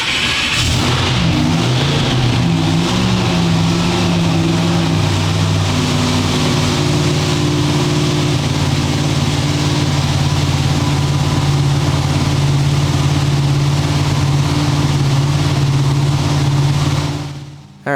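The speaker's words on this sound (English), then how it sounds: "now I'm just going to rev it up, just make sure everything sounds good" A car engine, freshly adjusted after a timing reset, roars loudly and continuously as it is revved, holding a strong, steady drone for about eighteen seconds before cutting off abruptly, with no voices over it.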